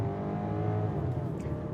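A 2026 BMW X3 with a 2-litre turbo four-cylinder and 8-speed automatic accelerates, a steady muffled engine drone heard briefly from inside the car.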